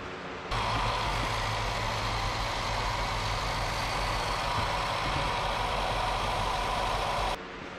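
A 1977 Datsun B210 engine runs steadily at idle after starting, a loud, even low rumble with a rough noisy edge that holds for about seven seconds before cutting off.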